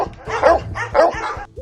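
Several dogs bark and yip in quick bursts, fairly close and loud, with a brief whimpering tone at the end.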